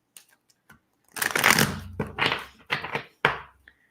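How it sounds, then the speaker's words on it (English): Close-up riffling of a deck of cards, several quick bursts of shuffling followed by short taps as the cards are squared up. "I'm going to just shuffle these real quick"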